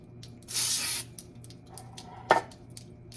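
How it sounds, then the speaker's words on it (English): A short hissing burst of baking spray into a muffin pan, close and clear, followed by a soft metallic tap in an otherwise quiet space. "So I've got me some pan baking spray here"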